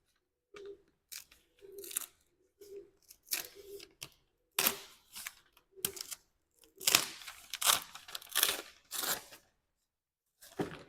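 A sheet of paper is handled and folded up close, giving a string of separate crisp crinkles and rustles with short quiet gaps between them.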